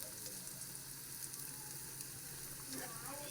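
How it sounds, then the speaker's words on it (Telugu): Perugu vada, lentil fritters, fry in hot oil with a steady, dense sizzle that holds close and even throughout, with no talk over it. "ఇట్లాగా వడలు చూడండి ఎర్రగా చక్కగా వేగాయి, బాగా వేగాయి."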